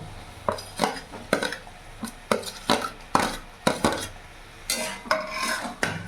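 Fried potatoes and ridge gourd tossed into a spiced pan, with a string of close, sharp scraping and clanking strokes of a utensil against the pan over a faint sizzle, no talking.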